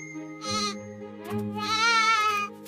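Goat bleating close and loud, two wavering calls in quick succession, the second longer and more drawn out.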